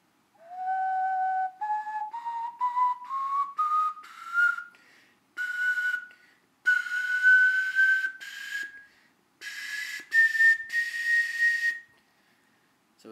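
A glazed ocarina in G plays a rising scale of clear, hollow, breathy notes, each held briefly with short gaps between, close and alone with no talk.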